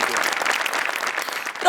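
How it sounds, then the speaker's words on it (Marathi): Audience applause from a live comedy show audience after a performance, dense steady clapping filling the whole stretch at moderate level with no speech. "जोरदार टाळ्या"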